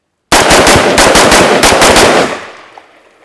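Rapid burst of about ten rifle shots fired in quick succession from a Hexmag magazine with a split spine during a mud torture test, loud and close, ending in a fading echo.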